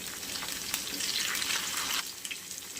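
Chillies, garlic and curry leaves sauté in hot oil in a pan, giving a close, steady sizzle and crackle with a few stirring clatters.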